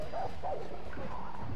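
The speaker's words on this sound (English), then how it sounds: "There's like a bunch of dogs." Several dogs bark and yip in the video game Far Cry New Dawn, a short burst of mid-distance barking over steady game background noise.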